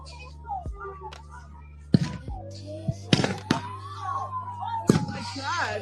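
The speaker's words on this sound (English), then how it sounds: "We have munitions fired. Flashbangs based on the sound." Flashbang grenades go off at a street protest, several sharp booming bangs at irregular intervals, with people shouting and talking throughout and a siren-like wail in the background.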